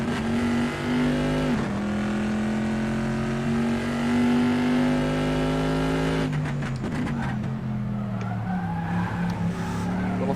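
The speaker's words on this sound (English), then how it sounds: "It's definitely a very good sounding engine, this one." Corvette C7.R V8 racing car in a Sebring sim race, loud engine revving and rising in pitch, a quick downshift, then a lower drone under tire squeal and skidding through a corner.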